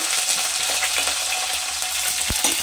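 Chillies frying in hot oil in a pan after other ingredients have browned, for a brinjal and tomato curry; a continuous bright sizzle with a brief knock of the pan near the end.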